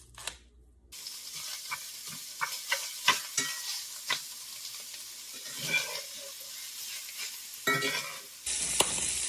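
Meat being stirred into sauce in a hot skillet, with repeated scraping and wet clacking strokes over a steady sizzle, close and fairly loud, with no talking.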